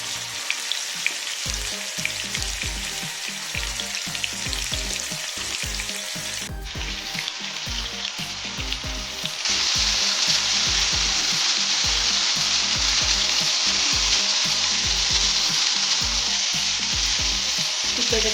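Chicken reshmi kebab fries in a pan over medium flame, a steady close sizzle with occasional stirring or shifting, growing louder and brighter partway through; no one speaks.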